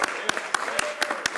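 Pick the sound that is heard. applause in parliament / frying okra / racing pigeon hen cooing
applause in parliament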